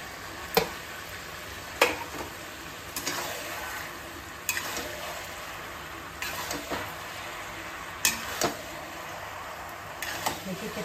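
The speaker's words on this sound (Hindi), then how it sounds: "फ्राई किया हुआ पास्ता है, इसमें ज़्यादा इसको फ्राई नहीं करेंगे।" Fried macaroni pasta is stirred in a pan on an Indian home stove, with a steady soft sizzle broken every second or two by sharp scraping strokes of the spoon against the metal.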